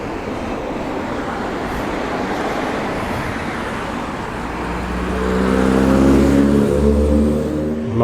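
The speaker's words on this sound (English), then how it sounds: "Mark 1 Golf just drove by." A Volkswagen Golf Mk1 drives past on a road during a classic vehicle run, its engine note rising out of a broad traffic hiss and peaking loudly near the end as it passes close by.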